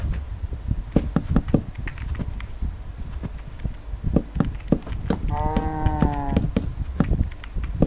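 Cows moo in Minecraft, with one drawn-out harmonic moo standing out over a busy bed of clicks, thumps and game sounds; a voice talks faintly at times.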